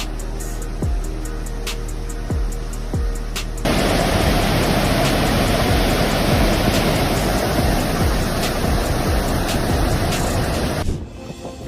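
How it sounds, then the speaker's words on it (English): A steady, heavy roar of flash flood water rushing down a Las Vegas street fills the scene, growing louder partway through as the torrent surges, with a few sharp knocks early on. "flash floods in Vegas are not a scene from a movie"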